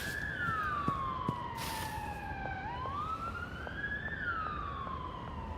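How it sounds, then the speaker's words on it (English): A police siren wails in a video game, sweeping slowly down and back up in long rising and falling tones, heard at moderate distance over faint background clicks. "I don't know if the siren's coming this way"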